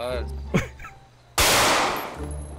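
Gunfire at a shooting-range training session in GTA 5 roleplay: a short loud burst of shots after brief voices, ringing out with a sustained noisy blast, with people talking around it.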